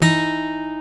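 A major seventh interval: a single sustained tone with rich, evenly spaced overtones rings out alone, fading slowly over under a second; a held pitched interval with a tense, bright color.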